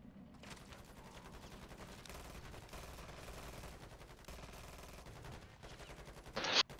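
Rapid automatic gunfire from the zombie-mode shooter Modern Warfare Zombies, sustained volleys rattling steadily throughout, with a sharper burst near the end.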